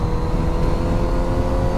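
Kawasaki Z900RS motorcycle cruising on an open, smooth road, its engine a steady, loud, continuous drone throughout with no speech.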